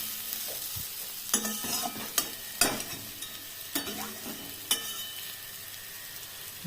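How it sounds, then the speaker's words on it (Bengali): Dried fish frying in a pan for a Bengali fish curry, the bright sizzle punctuated by about half a dozen sharp, close spatula scrapes and stirs against the pan, with no talking. "ভাজা কমপ্লিট হয়ে গেল।"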